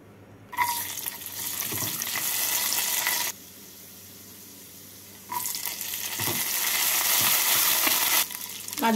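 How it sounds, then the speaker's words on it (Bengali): Cashews and raisins fry in hot oil with a loud crackling sizzle that bursts in, drops away for a couple of seconds, then surges back with stirring. "তেলটা গরম হলে এই তেলের মধ্যে আমি কাজু আর কিশমিশগুলোকে ভেজে তুলে নেব।"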